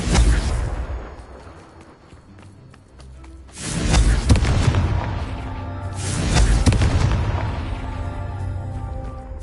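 Confringo blasting-spell explosions from Hogwarts Legacy on PS4: two heavy booming blasts with long rumbling decays, one near the start and a louder one a few seconds in, followed by another deep thud, with no talking.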